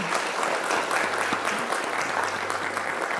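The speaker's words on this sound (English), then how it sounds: "Please give a huge round of applause to our brilliant panelists today." Audience applause for a panel of speakers at the close of a discussion, a dense steady wash of many hands clapping throughout, with no one talking over it.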